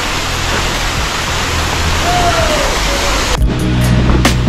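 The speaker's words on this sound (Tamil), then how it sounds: "இந்த வாட்டர் ஃபால்ஸ் பக்கத்துலேயே இருக்குது." Steady, dense rush of a waterfall beside a small zipline on a mountain route near Nathula Pass and Changu Lake, a broad continuous roar filling the scene, with a brief quieter break and a few sharp knocks near the end.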